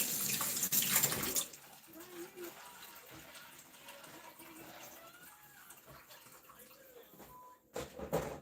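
Water running from a tap while hands are washed at a kitchen sink during sourdough cinnamon roll baking, a loud gush at first, then a softer steady flow beneath a talking voice.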